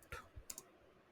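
Soft keyboard typing with one hand, a few scattered light clicks and taps heard close and faint against quiet room noise.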